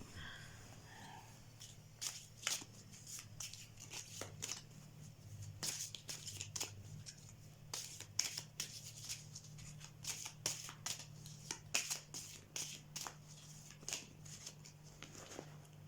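A deck of oracle cards is shuffled by hand in quick bursts of riffling and sliding, repeated many times over a low steady machine hum.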